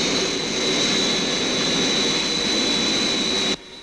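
The Zero X craft from Thunderbirds roars after liftoff, a loud, continuous jet-like engine blast with a high whine on top, cutting off abruptly near the end.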